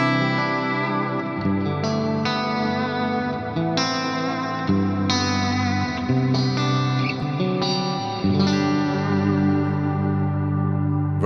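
Sustained guitar chords through an FM9 ring out with a long, washy reverb tail, each new chord blooming over the lingering decay of the last.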